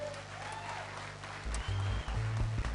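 Applause following a player's 2-0 victory in a Final Fight Revenge match during a French gaming show, moderate clapping with background music and low rumbling underneath.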